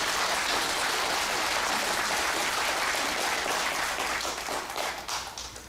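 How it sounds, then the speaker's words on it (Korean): Audience applause at a commemorative ceremony, a dense sustained roar of many hands that holds steady at full strength and thins slightly toward the end. "이건 박수 칠 만한 일이죠."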